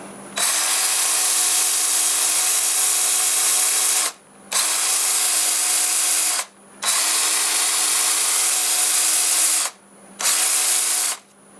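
A wood lathe spins a Siberian elm cookie forward at about 400 RPM, its steady, loud motor whine running in four sustained stretches broken by brief stops.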